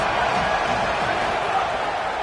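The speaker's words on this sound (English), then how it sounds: "This crowd trying to make life miserable for this offense." Dense roar of a football stadium crowd as the home fans try to rattle the opposing offense, a steady, loud wash of noise with no breaks.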